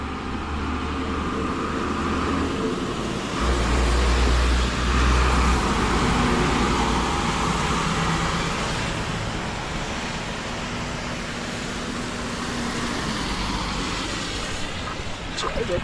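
Vehicles hiss past on a rain-soaked road as a tropical storm batters eastern St. Thomas, a continuous loud wash of tyre spray and engine rumble with heavier swells as larger vehicles go by.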